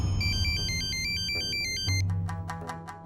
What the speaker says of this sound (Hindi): अरे ये फोन भी बकत पे बकत बजना लगता है।